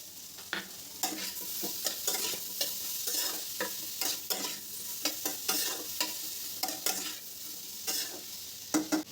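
Potato, pumpkin and pointed gourd cook with spices and tomato in a pan, a steady sizzle broken by repeated scraping strokes of a spoon stirring the vegetables, moderately close and with no talking.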